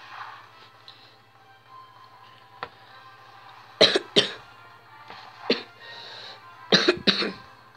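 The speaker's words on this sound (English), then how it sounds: "Sorry guys, I got a bit of a cough." Several sharp, harsh coughs in short bursts, some paired, with quieter breathing and faint sounds between them.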